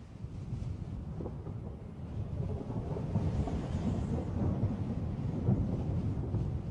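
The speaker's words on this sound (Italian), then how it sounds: "una tempesta primaverile è nell'aria e si sta dirigendo verso la costa della Nuova Scozia." Low rolling thunder of a spring storm over the North Atlantic sea off Nova Scotia, a continuous deep rumble with wind, swelling slightly and staying distant and soft.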